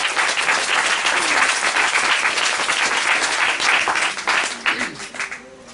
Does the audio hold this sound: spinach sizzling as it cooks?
no